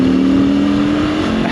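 A motorcycle engine revs loud and close, a steady throaty drone held for a moment.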